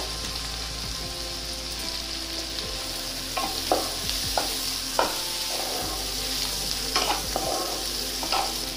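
Onion and tomato fry with a steady sizzle in a pan for street-style masala Maggi, broken by several sharp stirring scrapes and clacks of a spatula, close and fairly loud, with no one speaking.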